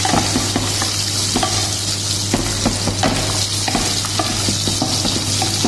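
Chopped onion and carrot stirred and frying in a pan for carrot soup, a steady close sizzle with repeated scraping strokes of a spoon throughout, no voices.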